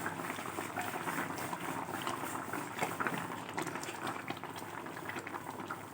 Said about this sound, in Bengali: এই যে ফুটছে